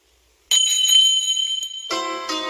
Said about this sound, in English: Maybe he'll come if we ring the bell.